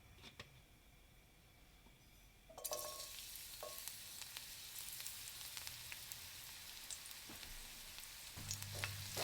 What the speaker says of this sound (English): Now I'll saute the garlic in this oil